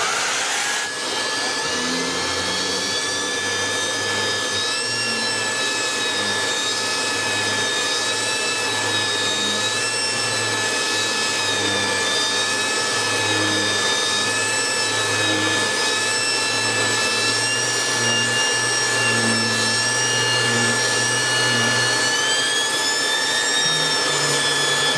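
A Kirby Legend 2 vacuum cleaner with its turbo accessory's dust shroud removed runs continuously with a loud, steady motor whine and a low airflow roar, whirring on without pause.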